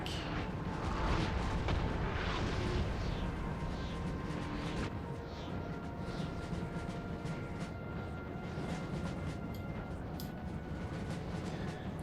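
Artillery guns firing in the Napoleon: Total War game, a rumbling din of booming shots, with heavier blasts early and distant cannon fire continuing under a steady battlefield roar.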